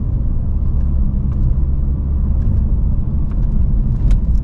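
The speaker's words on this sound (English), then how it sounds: "we can kind of get a sense of how this car performs on these bumpy roads" A 2015 Volvo S80 T6 Platinum driving over a bumpy road in Merrimack, New Hampshire, heard from inside the cabin as a loud, steady low rumble of tyres and road noise with faint knocks and thumps.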